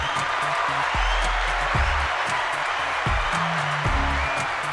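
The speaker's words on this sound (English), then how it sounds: "The clapping is this one." A recorded applause effect plays as a steady, dense wash of clapping at moderate volume, with low droning tones shifting underneath.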